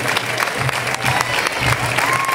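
An audience claps for a child at a Cucafera princess-and-knight casting in Tarragona, dense continuous applause with a few voices in the crowd.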